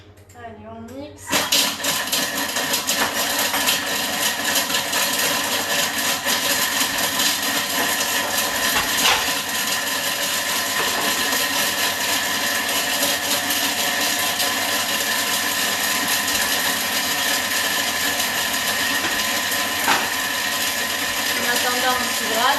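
A blender mixes lemon tart filling. A brief voice comes first, then the motor kicks in and whirs loudly and steadily for about twenty seconds with slight fluctuations.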